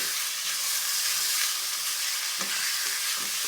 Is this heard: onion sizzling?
yes